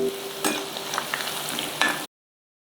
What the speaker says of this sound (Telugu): బాగా గోల్డ్ కలర్ వచ్చేలాగా మనం ముక్కల్ని ఫ్రై చేసుకోవాలి.